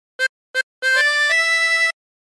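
Opening phrase of the hymn There's a River of Life played on harmonica: two short detached notes, then a longer connected run that shifts pitch and ends on a held tone, close and unaccompanied.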